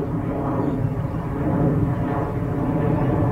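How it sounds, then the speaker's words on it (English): A fixed-wing airplane passes low overhead on its flight path above a hilltop cow pasture, a loud, steady engine roar that swells slightly midway and fills the whole stretch, with no talking. "the plane comes straight over the top."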